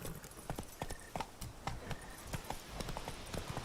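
Roach, the horse in The Witcher 3: Blood and Wine, clip-clopping at a walk, with steady evenly spaced hoofbeats over a bed of game ambience and music.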